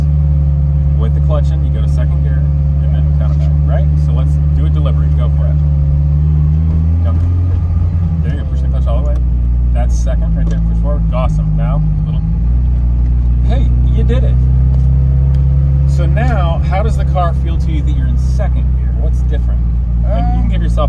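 A vintage Ferrari with a manual transmission drones steadily at low revs, with the engine note dropping and shifting as the clutch is worked; people talk over the engine throughout.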